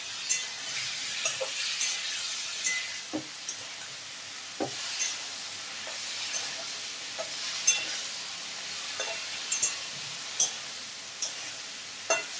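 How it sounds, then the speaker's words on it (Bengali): Pumpkin, potato and yardlong beans frying with prawns in a pan, a steady bright sizzle punctuated by periodic spatula scrapes and taps against the pan, close by with no talking. "চিংড়ি মাছগুলো ভাজা ভাজা হয়ে গেছে। এখন আমি কুমড়ো, আলু, বরবটি দিয়ে দিলাম।"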